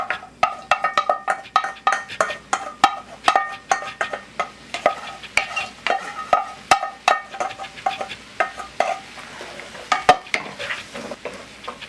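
Tomato sauce goes into a pan of seafood spaghetti with clams over sizzling heat, and a utensil scrapes and stirs in a quick, regular rhythm close by.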